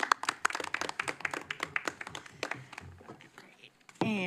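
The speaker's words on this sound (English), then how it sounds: "So a quick round of applause for all of them." Applause at a Poverty and Homelessness Board all-member meeting, a dense patter of claps that thins out toward the end before a voice starts up.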